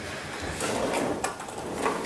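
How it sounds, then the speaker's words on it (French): A large kitchen drawer slides along its runners, a continuous close rumbling glide with a small knock midway, alone without talk. "des grands tiroirs et en dessous un plus profond pour les casseroles"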